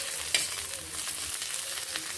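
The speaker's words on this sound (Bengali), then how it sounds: "এর সঙ্গে টমেটোগুলোকে কয়েক সেকেন্ড এইভাবে নেড়ে ভেজে নিচ্ছি।" Tomatoes are stirred and fried in a pan for ghughni, a brief, steady hiss of sizzling oil with a light scrape or two of the spoon, close and with no talk.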